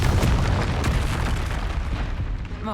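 Confringo blasting spell explosions in the Hogwarts Legacy video game: a dense, loud run of booming bursts and rumbling impacts filling the whole stretch, with no voices.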